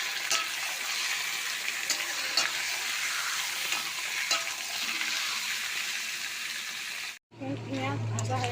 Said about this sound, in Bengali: চিকেনটা একটু ভেজে নেবো হালকা করে।